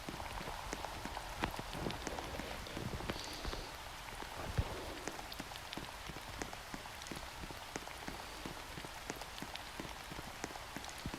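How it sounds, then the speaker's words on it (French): Steady rain falls in the Roblox game Brookhaven, a continuous dense patter of drops with scattered sharper taps, evenly loud throughout with no talking. "Même s'il pleut encore, il fait soleil."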